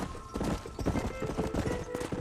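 Horse hooves clip-clop in a steady, busy rhythm close by in the video game Red Dead Redemption, with a tonal hum and scattered game sounds underneath; no one speaks.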